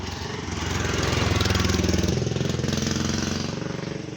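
A motorcycle engine chugs steadily nearby with a rapid rhythmic putter, swelling slightly in loudness before easing off.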